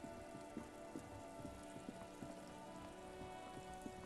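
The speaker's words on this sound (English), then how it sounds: "It's raining again." Steady rain falls in the video game Disco Elysium, a dense continuous hiss of drops pattering on surfaces with scattered louder splats, fairly faint and alone with no voices.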